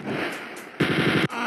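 Chain gun firing in the Spear of Destiny video game, rapid continuous bursts of automatic gunfire in two stretches with a brief break between, loud and close.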